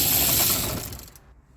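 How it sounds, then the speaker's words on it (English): A ratchet clicks rapidly while tightening strut nuts on a 2009 Mitsubishi Outlander. The close, crisp burst fades out after about a second, with no talking. "Now tighten the nuts to spec."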